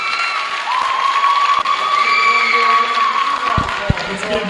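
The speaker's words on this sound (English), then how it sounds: "Let's give one more round of applause." A crowd at a high school boys basketball game in Kentucky cheers and applauds, with a sustained roar of voices and whoops and a few sharp claps standing out near the end.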